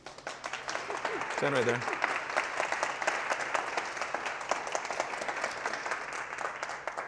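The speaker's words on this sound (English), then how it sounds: "All this applause is for you." A webinar seminar audience claps steadily and fairly close throughout, with someone speaking briefly over the applause near the start.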